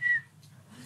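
A person whistles a short, thin sustained note at the start, close and fairly clear, followed by a quieter stretch with soft background murmur from a lively television studio setting.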